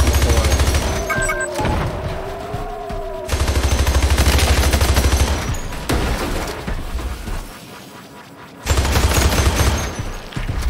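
Rapid bursts of gunfire blasting aliens in Hypercharge: Unboxed, loud machine-gun volleys separated by short pauses, with a few booming impacts and no voices.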